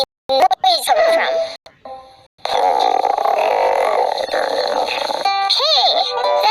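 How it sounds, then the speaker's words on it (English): A cartoon stomach-growl effect gives a long wavering, gurgling rumble that dominates the middle of the clip, framed by bursts of animated speech at the start and end. "Hey, that's your stomach growling."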